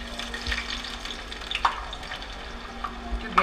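Onions and green chilies frying in hot mustard oil, a steady close sizzle with occasional soft utensil clinks and small pops, no talking.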